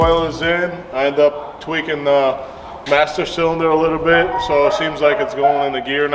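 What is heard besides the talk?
No everyday noise stands out behind the speech.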